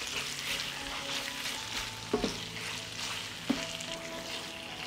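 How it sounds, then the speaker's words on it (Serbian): Chicken livers with onion and garlic frying in butter over lower heat, giving a quiet, even sizzle under a couple of brief utensil taps and stirs, close and unaccompanied by speech. "Džigericu pržimo na nižoj temperaturi jer hoćemo da ostane mekana, a ne prepečena."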